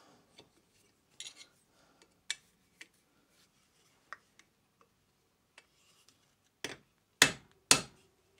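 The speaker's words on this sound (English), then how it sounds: "Just make sure it rivets fully home." Small metal taps and clicks come sparsely while rivets are hammered into the main frame of a beginner's steam locomotive chassis, ending in a few sharper, louder hammer blows.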